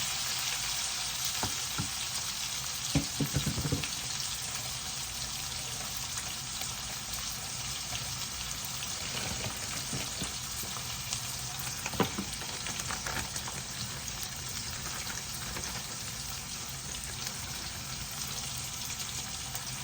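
Chopped onion and fenugreek seeds frying in a pan, a steady broad sizzle running throughout with a few brief scrapes and clinks of stirring, fairly loud and close, no voices.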